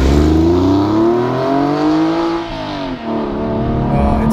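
A modified Porsche 996 Carrera engine revs loud and close, its rich harmonic drone climbing steadily, dipping briefly as the throttle eases, then rising again under sustained load with no voices.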